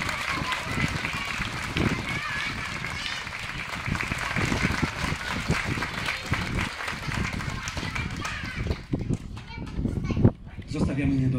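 A parish gathering claps for Mrs. Aniela in a long burst of crowd applause mixed with children's voices and running about, fading and thinning toward the end.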